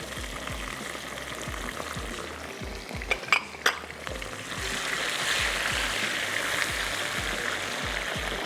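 Masala of tomatoes with garlic and ginger paste fries in a pot, a steady hiss that swells louder halfway through, with a few metallic clinks of a utensil against the pan.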